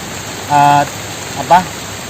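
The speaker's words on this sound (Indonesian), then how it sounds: "Dan sekarang ini posisinya hujan ya" Fairly heavy rain falls beside a river as a steady, even hiss. A voice breaks in twice with brief words over it.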